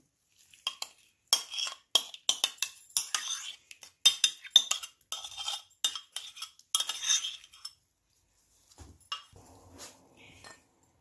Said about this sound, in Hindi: अब एक बाउल लेते हैं और इसके अंदर दही को ऐड करते हैं।